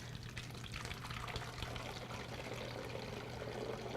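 Water pours steadily through a funnel into a container of food coloring, a continuous, faint trickling wash with a low background hum throughout.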